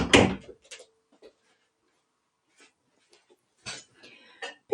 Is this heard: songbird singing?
no